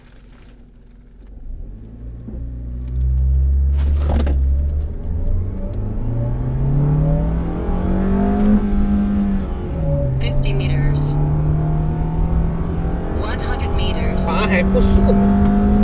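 A Perodua Aruz seven-seat SUV with a 1500cc engine and rear-wheel drive revs and climbs through gears as the driver shifts manually, with the engine note rising, dropping and rising again, under steady cabin talk.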